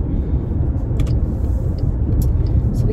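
Steady, loud low road rumble of a car interior on the move, a puppy riding along, with faint brief higher clicks above the continuous drone and no talking.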